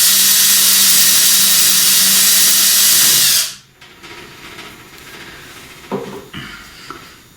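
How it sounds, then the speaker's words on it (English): A power drill runs loud and steady for about three and a half seconds, boring and tapping a part for a home-built American farm windmill during rotor and yaw bearing work. Then it cuts out, leaving quieter workshop knocks and handling noises. "Drill and tap right here, so that's the next step in the process here."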